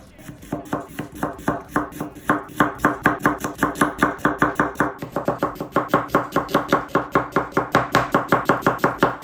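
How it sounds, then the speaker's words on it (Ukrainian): A knife slices onion into half-rings on a board in a quick, steady rhythm, with crisp close chops speeding up toward the end. "Ріжемо цибулю полукільцями і будемо її прикольно карамелізувати"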